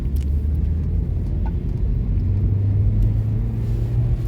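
A Hyundai Grand i10 with a newly replaced clutch drives along, its engine a steady low rumble heard from inside the car, continuous and fairly loud with no talking.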